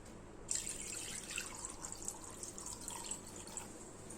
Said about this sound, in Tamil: இப்போ வடிகட்டிக்கலாம்.